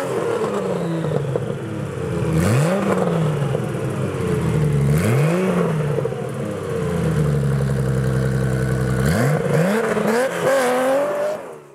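A 1993 Porsche 964 3.6 Turbo engine with a modified exhaust revs repeatedly, rising and falling in pitch with a throaty exhaust note, close and loud, no voices.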